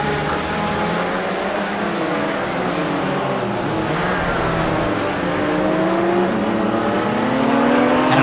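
Race cars in a GT4/TCR sim racing video game running down toward turn 10, engines whining steadily with rising and falling pitch as several cars drive past, loud and continuous.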